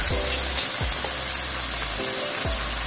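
Liquid poured into a hot wok for braised beef shanks gives a loud, close, steady hiss, with a few low dull knocks from the wok.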